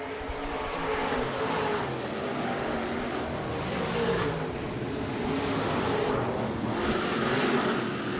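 B-Modified race cars in a pack at Rapid Speedway roar together in a dense, continuous engine drone that swells and fades as cars pass, loud and without voices.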